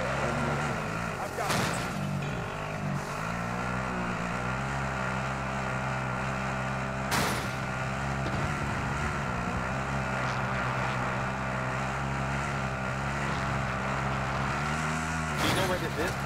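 Steady engine drone of a car driving in a video game, a continuous loud hum with a few sharp knocks and bumps, while voices talk over it.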